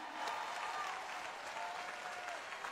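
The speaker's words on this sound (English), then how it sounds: "Can you clap for Jesus like you mean it?" A congregation claps at a church deliverance service in London, a lively crowd of hands producing a continuous, moderately loud patter with scattered voices mixed in.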